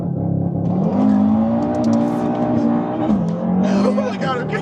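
A Stage 1 E85 Audi RS3 launches hard, its engine note climbing loudly and continuously with a brief dip at a gear change before pulling again, heard from inside the car.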